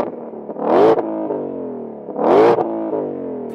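A 2020 Ford Mustang Shelby GT500 with active exhaust revs twice in quick succession, each rise in engine pitch loud and close, followed by a settling idle growl.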